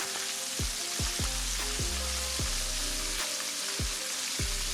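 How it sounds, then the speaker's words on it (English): Perch frying in hot grease makes a loud, dense, continuous sizzle heard close up, with repeated dull knocks and thumps from the pan every half second or so and no talking. "let's get her fish in that grease"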